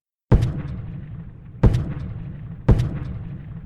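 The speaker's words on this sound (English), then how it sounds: "Jackson unlimbers his cannons and opens fire" Cannon artillery fire at the Battle of Malvern Hill, 1862: three heavy booming blasts spaced about a second apart, each a sharp loud onset with a rumbling tail, no voices.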